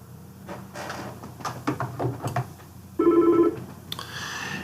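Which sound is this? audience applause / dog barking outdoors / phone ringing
phone ringing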